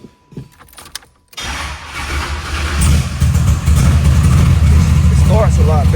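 Big block Chevy V8 on a carburetor being tuned, cranking over and firing up, then settling into a loud, steady, rumbling idle that fills the space after a brief quiet start with some small handling noises.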